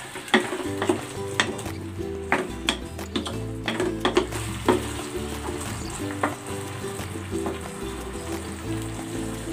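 An egg frying in a pan with butter and garlic, a steady close sizzle and crackle with irregular sharp pops and occasional scraping of a utensil, no voices.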